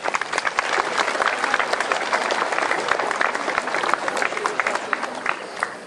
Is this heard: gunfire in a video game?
no